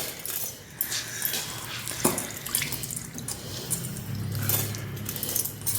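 Water trickles and drips from washed, soaked rice draining in a sieve, an irregular wet patter with small splashes and a soft running stream, fairly close and without speech.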